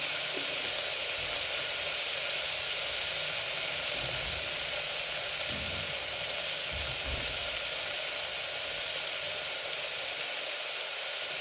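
Ginger garlic paste sizzles steadily in hot oil as it fries, a constant bright hiss filling the whole stretch with faint stirring and scraping thumps underneath, close and loud.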